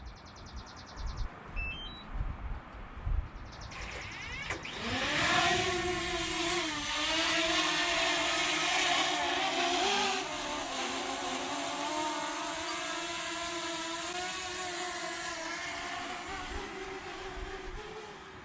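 A drone heading out toward a 280-yard shooting target, with a few faint clicks and beeps before its rotors spin up into a loud, steady high whine that stays close and continuous.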